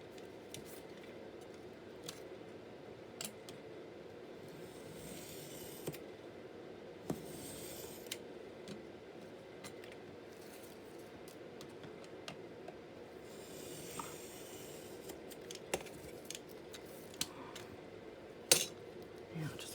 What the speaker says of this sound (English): cut it with their scissors page by page